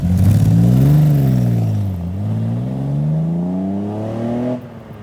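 An MGC GTS Roadster's engine pulls along a rural Worcestershire country lane, a loud, close, smooth drone that rises in pitch, dips, then climbs again through the gears before easing off near the end.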